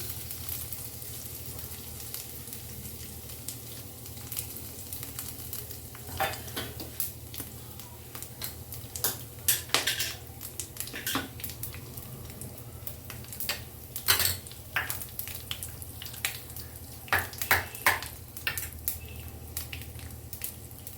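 Dried chilli, cumin, whole garam masala and bay leaf frying in hot oil for a carrot and cauliflower curry: a steady close sizzle broken by frequent metal clinks and scrapes of stirring, with no voices.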